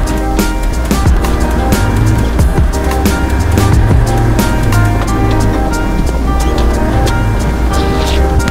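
Off-road vehicle splashing through a river crossing in Morocco, a loud continuous wash of water and engine rumble with sharp sloshing bursts throughout, no talk.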